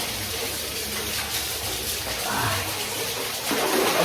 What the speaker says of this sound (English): I'm gonna take a swim in this.